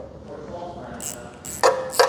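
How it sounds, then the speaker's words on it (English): Torque wrench tightening oil pan bolts to 14 foot-pounds, heard as a few sharp metallic clicks toward the end after quieter workshop handling. "I'll torque it to 14 foot-pounds"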